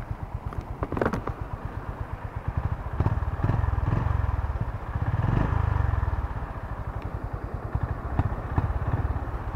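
A 2025 Honda GB350S motorcycle engine idles with a steady rapid thump, then is blipped into a couple of throaty, loud revs before settling back to idle.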